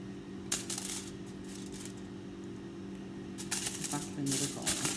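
Sheet of aluminium foil crinkled and handled by hand while shaping a peony flower, with short bursts of crisp rustling near the start and again at the end over a steady low hum.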